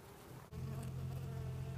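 Honey bees buzz around an opened beehive, a close, steady, dense hum of many insects that swells slightly after a brief dip.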